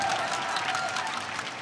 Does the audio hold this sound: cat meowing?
no